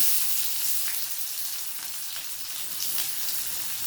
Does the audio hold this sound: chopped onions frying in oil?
yes